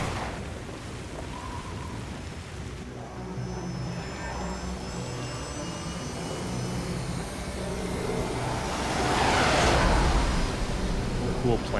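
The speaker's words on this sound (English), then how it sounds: "Very evil looking stealth plane." A stealth plane in the video game Metal Gear Rising: Revengeance gives a steady, dense roar that swells into a louder rushing whoosh near the end, with rumbling noise underneath.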